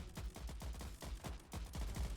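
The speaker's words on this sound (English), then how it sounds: "they're firing off mortars randomly." Mortars and guns fire in a rapid, continuous volley of booming thumps in the World War strategy game Ratten Reich, dense and loud throughout.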